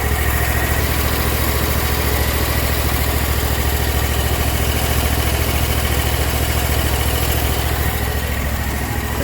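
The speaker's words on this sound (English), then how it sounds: "It's idling a little high because they bent the damn governor arm." Hustler lawn mower engine idling a little high because of a bent governor arm, a loud, steady, close rumble with fast regular firing pulses and no change over nine seconds, no voices.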